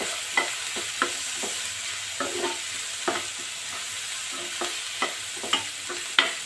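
Sandwich filling frying with chili powder, a low steady sizzle punctuated by about a dozen sharp spatula scrapes and taps against the pan at irregular intervals, close by with no talking.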